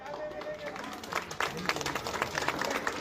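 Audience applause at a political rally in Maharashtra, a burst of clapping and crowd noise swelling after a moment, with a voice speaking over it.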